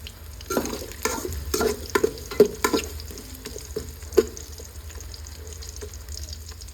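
Onions fry gently in a pan for pulihora, a low sizzle under a run of irregular metallic spoon clinks and scrapes that thin out toward the end.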